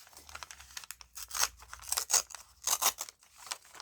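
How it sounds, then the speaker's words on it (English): The edge of a paper journal page is torn by hand in a quick series of short, crackly rips, close and quiet. "I'm just going to tear this edge."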